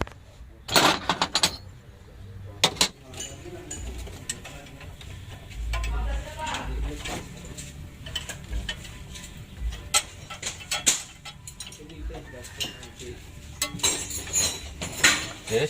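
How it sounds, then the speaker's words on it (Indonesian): Metal wrench clicking and clinking while tightening the nozzle hose fitting on a 2010 Mitsubishi L300 4D56 diesel engine, scattered irregular taps and ratchet-like ticks close up, with someone talking intermittently. "Lanjut kita kunci untuk selang nozzle-nya."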